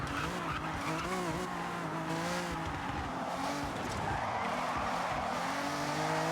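A car drifts in the racing game Forza Horizon, its tires skidding and squealing continuously over a revving engine, loud and close throughout with no talking.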